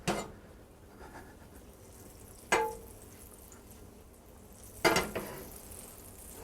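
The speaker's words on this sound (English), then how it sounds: "when that butter stops sizzling, it's actually the water in the butter that's boiling off" Soft steady sizzle of butter in a skillet, broken by three loud clanks of a utensil against the pan.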